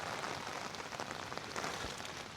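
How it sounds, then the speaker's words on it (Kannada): Steady rain pours down at Muppane ferry launch near Sagara, Karnataka, a dense hiss of drops pattering on surfaces, constant and fairly close, with no voices. "ಮಳೆ ಬರ್ತಾ ಇದೆ ಬರ್ತಾ ಇದೆ"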